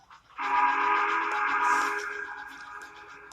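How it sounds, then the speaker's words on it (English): An unfamiliar train whistle sounds along a railway line in the dark: one loud, sustained multi-tone blast that starts abruptly, holds steady, then slowly fades while still ringing. "Then he heard a whistle that was not familiar to him,"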